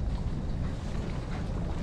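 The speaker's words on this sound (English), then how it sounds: "Man, that wind just has never laid down in weeks." Steady wind rushing over an open boat on a Louisiana waterway while jug-line fishing for catfish, a constant broadband roar with microphone buffeting, loud and unbroken, with no voices.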